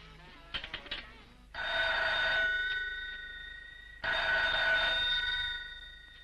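Old telephone bell ringing in two long, loud, close rings separated by a pause, preceded by a few short clicks, with no voices.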